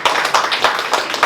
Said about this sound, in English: A round of applause for everyone who pitched tonight